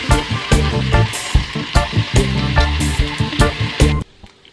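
Bacon frying in a pan, a loud continuous sizzle with sharp popping spatters repeating in an uneven rhythm, then it suddenly drops to near silence at the end.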